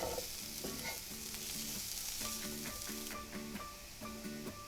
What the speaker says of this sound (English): We want to cook the mushrooms nice and crispy